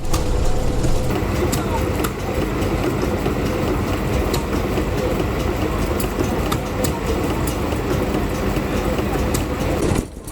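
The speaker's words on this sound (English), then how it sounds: "This one was built by the Crossley brothers and is a gas engine" A Crossley Brothers stationary gas engine, dispatched in 1957, runs steadily at a village show, a dense continuous mechanical drone with faint periodic clicks that holds level throughout before dropping at the end.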